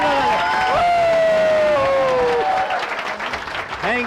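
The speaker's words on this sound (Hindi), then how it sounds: "तालियां जोरदार।" Loud, sustained applause from an audience at a Modicare gathering, dense clapping and some cheering over a steady tonal background, easing slightly toward the end.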